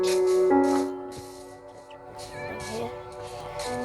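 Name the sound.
cat meowing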